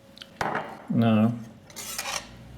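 Lemon juice and olive oil are beaten together with cutlery in a bowl, making clinking scrapes and a brief ringing whir of metal against the dish, close and moderately loud.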